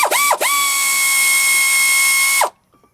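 An impact or power tool spins out a rear brake bolt, a loud near whine with a brief stutter at the start, then a steady high-pitched run that cuts off abruptly into quiet.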